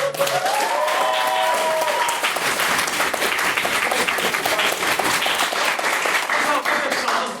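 A debate-hall audience claps in a loud, continuous round of applause lasting several seconds, with a few voices and brief whoops audible over the steady clapping.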